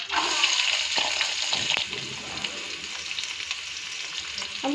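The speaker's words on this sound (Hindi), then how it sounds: "अब हम प्याज को ब्राउन होने तक फ्राई करेंगे।" Chopped onions sizzle and crackle steadily in hot oil with bay leaf, shahi jeera, cardamom and cloves for a North Indian chicken dish, a close, continuous frying hiss with occasional stirring scrapes.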